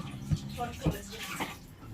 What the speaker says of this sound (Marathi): थोडं थोडं पाणी नळ चालू करायचा नाही बघ भंडारीने केला नळ चालू